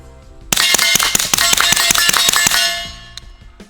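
An AR-9 direct blowback rifle fires a rapid string of about a dozen sharp, ringing shots in quick succession, loud and close with metallic clang, then the reverberation fades out.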